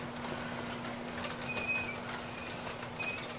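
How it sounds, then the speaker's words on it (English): An Aristo-Craft model train pulled by six RS-3 locomotives runs with a 61-car consist, giving a steady rolling rumble with faint wheel squeal, close and continuous throughout. "they do work quite successfully pulling this 61 car train"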